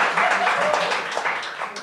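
A comedy show audience applauds in a steady wash of clapping lasting a couple of seconds, with faint voices mixed in underneath and gradually easing off toward the end.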